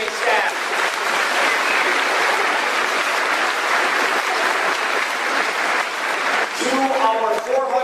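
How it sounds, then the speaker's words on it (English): Sustained applause from a large high school graduation audience honoring faculty and staff, a steady dense wash of clapping for several seconds before a voice begins speaking near the end. "Round of applause for the faculty and staff."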